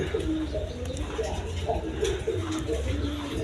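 Fancy Gorra-type pigeons with chicks in a pet sale pen coo in low, repeated throaty rolls close at hand, several birds overlapping steadily while someone talks over them.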